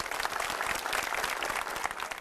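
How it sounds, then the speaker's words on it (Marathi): An audience claps steadily in a full, even round of applause, close and sustained, with no voices standing out. "टाळ्या वाजवून आपण शुभेच्छा देऊया"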